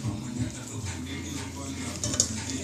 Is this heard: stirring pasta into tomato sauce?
yes